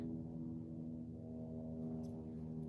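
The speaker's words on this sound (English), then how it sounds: "there's a plane coming." Airplane passing overhead in winter, a faint steady low tonal engine drone with a faint hiss of other sound near the end.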